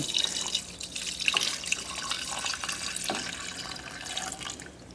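Water poured from a tap into a mixing bowl holding salt and two flours for rye sourdough bread, a steady splashing trickle lasting several seconds with no talking.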